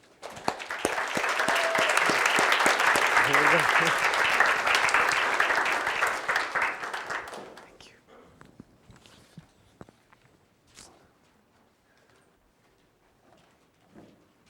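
An audience claps loudly and steadily to welcome a lecturer to an education talk, then the applause fades after about seven seconds into a quiet room with scattered shuffles and a few last claps.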